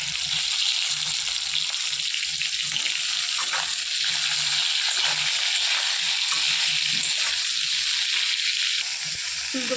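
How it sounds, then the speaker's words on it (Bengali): Potatoes for a vegetable khichuri fry in a pan with a loud, continuous hiss of hot oil, steady and close throughout with a few faint clicks underneath. "আলুগুলো একটু একটু ফ্রাই হয়ে গেছে ফুলকপি দিয়ে দিব"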